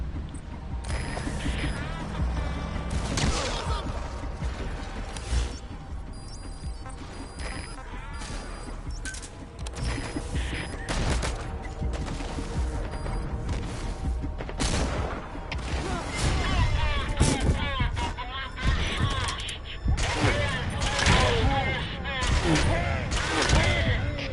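Gunfire in Metal Gear Solid V during a botched infiltration, with dense bursts of shots, crashes and mechanical clatter under a steady game soundscape.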